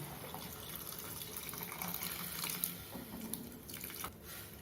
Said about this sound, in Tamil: இப்போ பருப்பு தண்ணி மட்டும் ஊற்றணும்